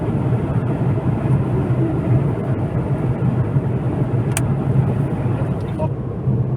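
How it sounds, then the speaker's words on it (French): Ford Puma DCT7 with a small-displacement engine running quietly while driving, a steady broadband rush of wind noise from the window dominating the cabin, with a few faint clicks near the end. "à part le bruit de la fenêtre, le moteur est relativement silencieux."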